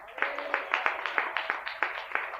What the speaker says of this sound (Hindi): और एक बार जरा ताली मारते हैं